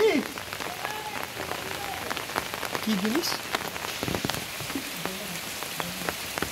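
Steady rain patters on surfaces outdoors in a village setting, a dense continuous hiss with scattered louder drops, while people speak briefly and a few faint calls sound beneath the downpour.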